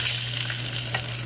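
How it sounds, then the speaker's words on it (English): Salmon in a frying pan sizzles steadily and loudly, a dense crackling hiss with a faint scrape as the fillet is turned over. "we'll go ahead and flip our salmon over"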